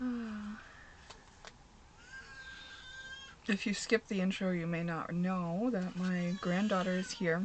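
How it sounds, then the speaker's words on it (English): A little baby crying and fussing indoors at nap time, with wavering wails rising in the second half of the clip over someone speaking close to the microphone. "that's what you may hear in the background if you hear a little baby crying"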